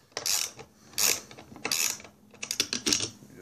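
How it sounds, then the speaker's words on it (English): A ratchet wrench clicks in quick bursts while tightening parts of a homemade hydrogen generator, giving several short rattling runs of sharp ticks close by with brief pauses between them. "And these ratchet wrenches are nice, so make sure the rod's not turned."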